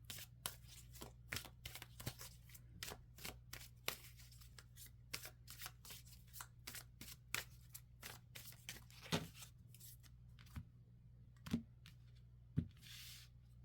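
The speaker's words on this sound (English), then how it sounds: "let's go ahead and pull some more cards." Tarot cards being shuffled and pulled, a long run of crisp riffling snaps and card flicks repeating at a fairly regular pace, close but soft, over a low steady hum with no voices.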